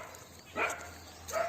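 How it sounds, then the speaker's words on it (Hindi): A dog in a village barks twice in short, faint yelps, the barks well separated and set against quiet outdoor background noise. "गांव है, कुत्ते भी होंगे"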